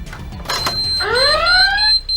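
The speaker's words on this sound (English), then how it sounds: "as soon as you do this, an alarm will sound" A short electronic alarm rings out, a rising warbling tone lasting about a second after a couple of clunky mechanical sounds, as a train door's emergency release is operated.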